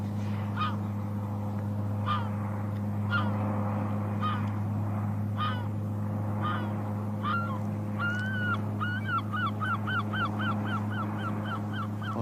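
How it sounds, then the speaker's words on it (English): Seagulls call over a golf course during a women's professional tournament, several far-off cries repeating and then quickening into a rapid run of yelping calls, all over a steady low hum of background noise. "the Seagulls are certainly trying to make up for it, aren't they?"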